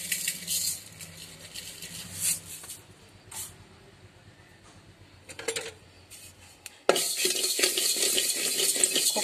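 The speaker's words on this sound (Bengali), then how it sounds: "তো এখন আমি কালো জিরা আর শুটকিটা ভেজে নেব।" Black cumin and dried fish frying slowly in a pot, intermittent scraping and clinks of a spoon against metal, then a loud steady sizzle takes over for the last few seconds.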